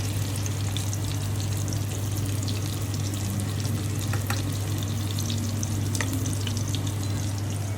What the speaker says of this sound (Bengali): আর ওইদিকে আজমি ডাল রান্না করতেছে